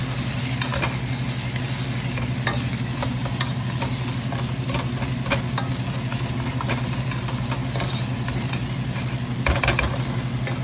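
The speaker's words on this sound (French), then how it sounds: "Ensuite, nous allons bien mélanger." A spoon scrapes and stirs through Ivorian-style fish soup in a pot, giving irregular clinks over a constant low hum and soft bubbling.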